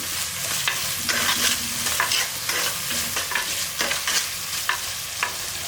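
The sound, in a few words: tomatoes and onions sautéing for fish curry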